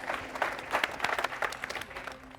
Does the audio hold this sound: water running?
no